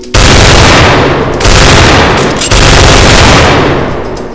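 Mac-11 machine pistol firing in a Roblox hood game set in New York City, three loud sustained bursts of rapid automatic fire, each lasting over a second with very brief pauses between them.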